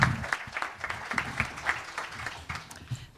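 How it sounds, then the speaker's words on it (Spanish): Applause from the audience at a book presentation, a thinner round of separate claps close at hand, loud at first and then fading gradually to a few scattered hands. "Un fuerte aplauso para ella."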